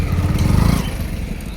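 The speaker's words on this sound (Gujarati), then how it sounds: "એમનું KTM પડ્યું છે, વિક્રમભાઈનું KTM છે." A KTM motorcycle engine sputters and chugs close by, rough and loud for a moment, then fades down to quieter background noise.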